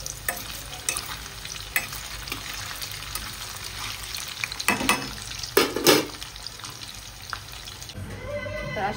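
Potato pieces coated in corn flour fry in a pan with a soft steady sizzle, broken by clattering stirs and scrapes of a spoon against the pan.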